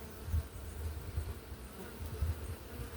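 Dense hum of honeybees swarming around an open hive during an inspection, a steady low drone with pulsing swells, close and moderately loud, with no talking.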